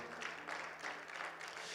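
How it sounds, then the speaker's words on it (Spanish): A church congregation applauds during a Bible class on Daniel and Revelation, a soft, fairly distant patter of many hands clapping together with no break. "Denle un fuerte aplauso al Señor"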